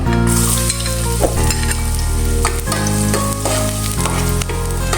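Garlic sizzling in hot oil in a pan, a loud continuous crackling hiss with a noisy metal ladle clanking and scraping repeatedly, close up.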